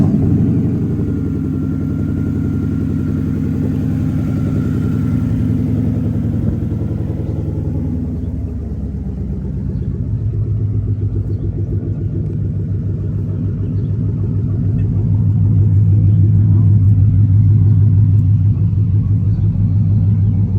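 Ford Mustang with a Coyote V8 and no catalytic converters or mufflers, a loud, continuous, deep engine rumble at close range that steadies into a heavy low idle drone, with no talking.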